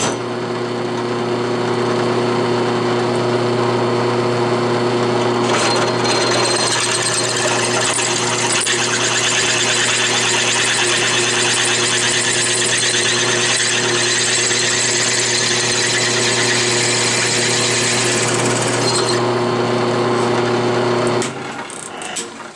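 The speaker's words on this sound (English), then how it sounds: "put it in the vise on my manual round column mill and do it" A manual round column mill hums loudly and steadily, with a harsher grinding layer as a worn drill bit cuts into a Volvo brake caliper for several seconds before winding down.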